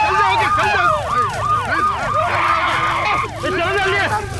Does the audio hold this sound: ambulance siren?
yes